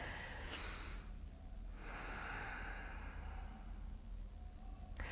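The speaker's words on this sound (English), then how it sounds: "And again, nice deep breaths." Slow, deep breathing during a lower abdominal exercise on a mat: long, soft airy inhales and exhales, close and steady, with no talk over them.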